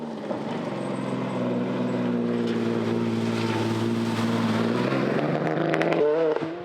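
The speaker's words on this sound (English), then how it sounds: "the engine of the S2000 had picked up a misfire" An S2000 rally car with a misfiring engine drones steadily at the 2018 Lone Star Canterbury Rally in New Zealand. The engine note is loud and sustained, then wavers briefly near the end.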